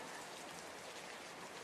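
Steady rain falls as a soft, even hiss of drops on a surface, continuous and unchanging, quiet and with no other sounds.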